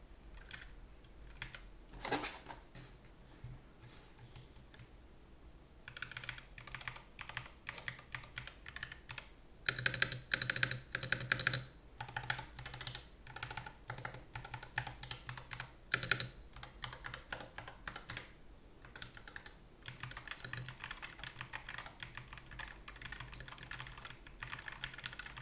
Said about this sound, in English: let's do a quick sound test